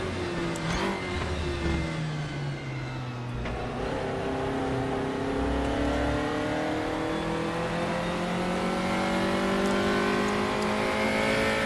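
A race car engine in the RaceRoom racing game runs continuously and close, revving up through the gears with rising tones, short dips at the shifts, and a steady drone throughout.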